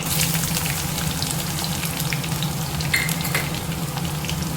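Fennel seeds, curry leaves and crushed garlic frying in hot oil for a South Indian plantain curry, giving a steady, close sizzle with small crackles and pops throughout.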